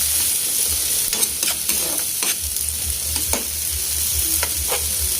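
Sautéing in leftover oil from frying tinapa (smoked fish), a loud continuous sizzle with repeated scraping and stirring strokes of a utensil in the pan, close up.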